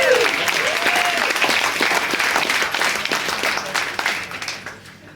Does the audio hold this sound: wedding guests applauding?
yes